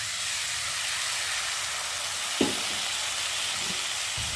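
Broken wheat dalia hits hot oil in a frying pan and sizzles with a constant hiss, broken by a sharp crackle as more is poured in and a few softer bursts after, with no voices.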